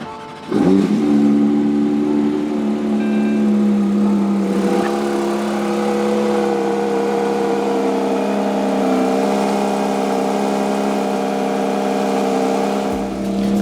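A Porsche GT3 RS with an aftermarket exhaust fires up from a cold start, a sharp crank and bark then a loud, steady high idle droning close by, no talking.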